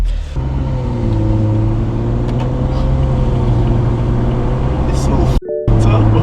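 A BMW M235i fitted with a sports cat exhaust drones loudly and steadily while driving, a deep continuous engine roar heard from inside with a brief dip near the end, with talk faintly over it.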